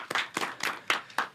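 Several sharp hand claps in a quick, uneven rhythm from a small audience at a talk on mental health, fairly close and clear with no voices over them.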